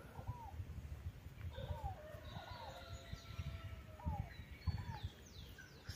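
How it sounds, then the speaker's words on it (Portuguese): Faint birdsong drifts across a quiet rural property near Agudos do Sul, Paraná, Brazil: a handful of short, scattered chirps and calls over a soft, steady background. "muito pássaro."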